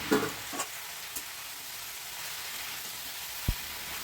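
Cabbage fries in a pan with a soft, continuous sizzle. A few utensil taps and scrapes from stirring stand out against it.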